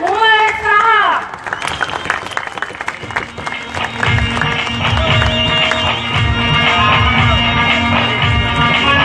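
Audience at a PTI workers' convention in Karachi's District East breaks into loud, sustained applause and clapping after a voice introduces the speaker, the dense crowd noise carrying on to the end with music-like tones underneath.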